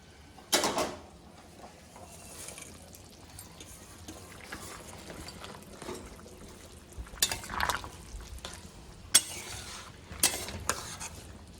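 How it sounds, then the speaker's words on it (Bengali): Raw prawns go into a simmering curry with potatoes and are stirred, giving a few sharp metal spoon-and-pot clanks and wet sloshing bursts over a low bubbling background, with no talk. "এখন চিংড়ি মাছগুলো দিয়ে দিচ্ছি"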